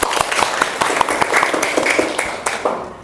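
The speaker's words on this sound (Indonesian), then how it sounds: "ya, tepuk tangan kepada Laras." Applause from a classroom group of trainee teachers at an Indonesian Islamic cultural history lesson, loud and fairly close, a few sharp claps standing out over voices chattering throughout.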